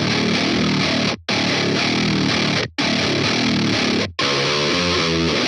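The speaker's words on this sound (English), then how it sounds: "listen to how it changes the distortion, how it gives us a bit more of that growl" Heavily distorted guitar pushed through a Black Box saturation plugin, a growling, blown-out metal tone in loud sustained riffs, broken by three short silent gaps.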